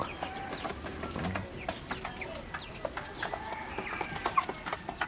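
Chickens cluck and chatter continuously, a busy flock nearby in Bicol, Philippines, with short overlapping calls and no talking.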